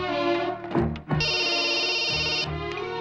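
A telephone rings indoors with a loud electronic ringtone that holds a steady tone across the clip. A brief dip comes near the start, and nobody talks over it.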